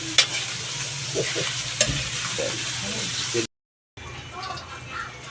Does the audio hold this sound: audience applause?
no